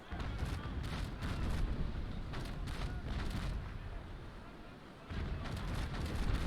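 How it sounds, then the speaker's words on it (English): Ship cannons fire broadside salvos at very close range in the naval combat game Naval Action, a dense run of heavy booms and rumbling blasts that continues without letting up, with a brief dip before it swells again. "Simply trading broadside for broadside with him until we prevail."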